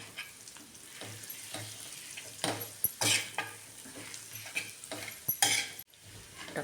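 Potato chutney with red chilli powder sizzles and fries in an iron pan, with steady frying hiss, clinks of a utensil and brief louder stirring scrapes.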